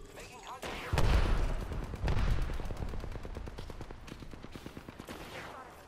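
Apex Legends gunfire, with several heavy shots followed by a rapid automatic burst that fades toward the end, heard close, with talk over it.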